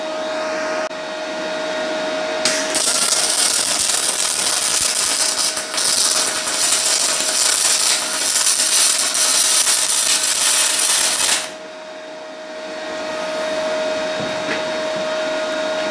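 Aluminium welded with a Parkside PMSG200A2 welder, a loud, harsh, continuous crackling hiss close by that starts abruptly, runs for about nine seconds and cuts off, leaving a low hum, with no talk.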